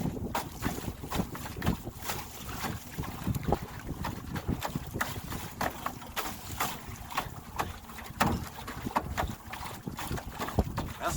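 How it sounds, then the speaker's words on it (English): A small outboard motor pushes a canoe across open water, a steady drone with hull slaps and splashes while gusty wind buffets the microphone throughout. "I'm going to try to turn this motor back down some."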